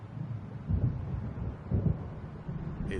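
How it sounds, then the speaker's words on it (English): Low, muffled rumbles of approaching storm thunder in Alan Wake Remastered, two soft distant rolls over a windy ambient bed. "It seems there's a storm coming."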